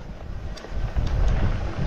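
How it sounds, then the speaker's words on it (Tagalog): Strong wind buffets the microphone at a lagoon campsite during solo bike packing, a rough low rumble that swells louder in the second half with no talk. "Napakalakas ng hangin"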